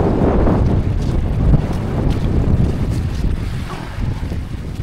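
Strong wind buffets the microphone on an island by the sea, a loud continuous roaring gust with rushing air and surf-like noise, unbroken and without voices.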